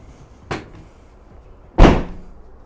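Second rear door of a 2019 Ford Transit Custom MHEV van swung shut: a light knock followed a second later by a loud, close, heavy slam with a brief decay.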